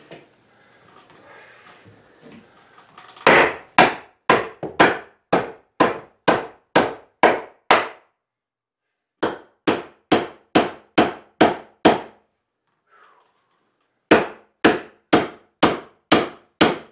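A hammer drives nails into wooden rafter ties on an off-grid cabin frame in three bursts of steady, ringing blows, close and loud, separated by brief pauses after some faint rustling at the start.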